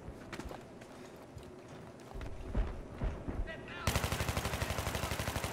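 Gunfire from a G36C rifle in Battlefield 3 Conquest on Damavand Peak, scattered shots giving way to a rapid automatic burst near the end, with a player talking over the action.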